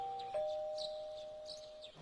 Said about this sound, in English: You hear the doorbell ring.